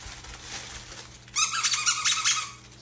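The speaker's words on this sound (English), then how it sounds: "There's a squeaker in here." Rubber duck dog toy with a squeaker inside, squeezed close by in a quiet room, giving a quick burst of several sharp high squeaks after a soft rustle, no talk.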